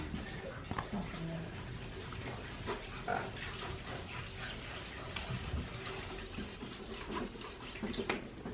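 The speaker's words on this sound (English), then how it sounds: "when you're sanding with paper like this" Quiet, repeated rasping strokes of sandpaper rubbing against a surface, soft and close, in an irregular rhythm.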